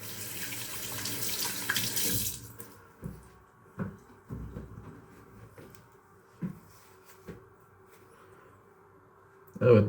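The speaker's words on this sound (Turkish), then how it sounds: "Şöyle elimi yıkayacağım." Hands are washed under a running tap after a shave. Water rushes steadily for about two seconds, then stops, and a few soft knocks and clatters from the sink follow.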